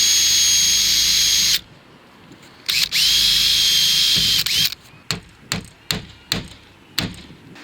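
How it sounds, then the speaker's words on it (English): A power drill bores a hole in a roof near the flashing of a VELUX top-hung window, running in two loud close bursts, followed by a quick series of sharp taps and knocks, with no talking. "I'm just going to drill another hole about by here."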